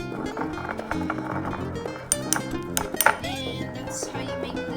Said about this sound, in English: So now you just stir it all up